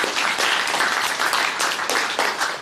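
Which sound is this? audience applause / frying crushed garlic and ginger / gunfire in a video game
audience applause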